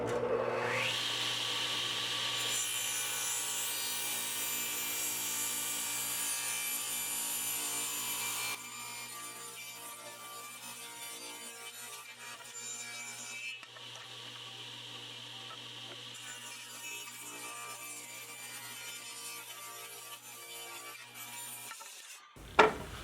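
A Delta 36-725T2 table saw cutting wood, the motor whine with a loud rasping cut through the board, then a quieter run as the blade spins on before winding down, no talk.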